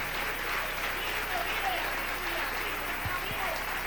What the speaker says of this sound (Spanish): Dale un aplauso al Rey en esta mañana.